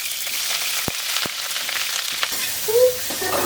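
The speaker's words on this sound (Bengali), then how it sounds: "কড়াই গরম হয়ে গেছে, আমি ফুলকপিগুলো ভেজে নেব। দিয়ে দেবো সরিষার তেল, কপিগুলো দিয়ে দেবো।" Cauliflower florets frying in mustard oil in a hot wok give a steady close sizzle throughout, broken by a couple of sharp utensil clicks and a brief squeak near the end.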